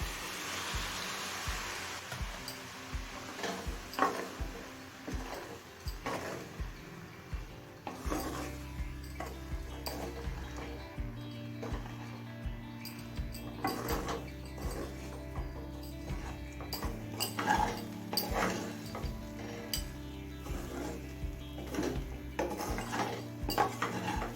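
Oats, sugar and a little hot water get mixed in a pan, with repeated rasping scrapes and rubbing strokes of a spoon against the metal in an uneven rhythm, close and fairly quiet.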